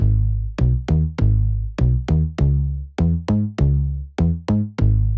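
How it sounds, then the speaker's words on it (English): A deep synth bass pulses in short, punchy notes with sharp attacks and quick decays, repeating in a steady groove; loud and upfront, with no voices. "So this is a synth bass, and then let's look at the levels."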